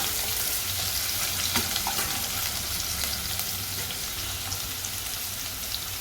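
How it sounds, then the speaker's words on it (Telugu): Onions frying in a pan for vegetable biryani give a steady, close sizzle that holds evenly for the whole stretch, with faint crackles and no voices. "ఈ ఉల్లిపాయలు కూడా కొంచెం వేగాలి."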